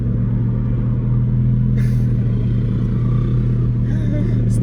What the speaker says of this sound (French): c'est la première supercar de la chaîne que je conduis moi-même